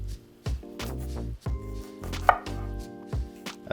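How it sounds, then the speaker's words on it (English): A knife slices an onion and a pepper on a cutting board, landing about seven close, firm, evenly spaced cuts with no talking. "we're gonna do slices on the onion and the pepper"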